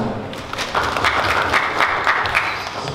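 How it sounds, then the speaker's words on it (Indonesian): Classroom audience clapping together after a Qur'an memorization recital during a Ramadan tahfidz session, a short, moderately loud burst of mixed claps lasting a few seconds. "Tepuk tangan bersama."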